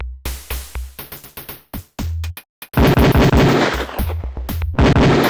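Rapid Beretta pistol shots crack at a firing range in the video game Police Quest: Open Season, first in quick separate bursts, then a dense, loud, continuous volley of gunfire.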